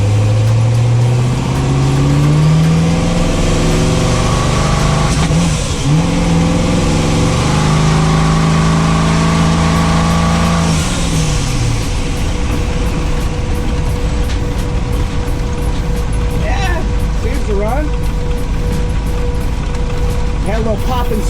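A boost-controlled twin-turbo Winnebago engine revs loudly up close, rising and falling through shifting tones before settling into a rough, sputtering run with a few pops, with faint voices underneath.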